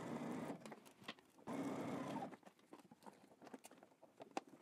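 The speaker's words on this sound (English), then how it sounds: "we're gonna go ahead and stitch this down using 5/8 of an inch seam allowance" A domestic sewing machine stitching a pant seam with backstitching, two loud steady runs of motor whir separated by a pause, then quieter clicks and handling noise.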